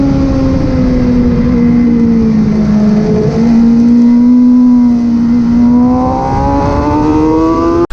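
Motorbike engine powering uphill at Cadwell Park race track, a loud, close, steady drone with a sustained tone that dips slightly and then climbs as the revs rise, continuous throughout.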